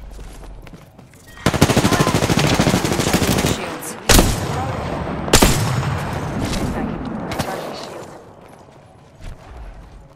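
Gunfire in Apex Legends, a sustained rapid burst of automatic shots followed by a few sharp, loud single blasts and fading mechanical noise.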